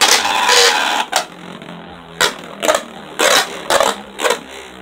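Beyblade spinning top fitted with an Octa Plus mod launched into a stadium: a sharp ripping launch followed by a series of short scraping, whirring bursts as the top spins and strikes the plastic.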